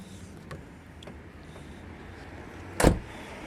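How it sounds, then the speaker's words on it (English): A Kia Rio car door is opened, giving a single sharp click-thunk of the latch after a few seconds of quiet, faint background noise and small taps. "then we can open the door"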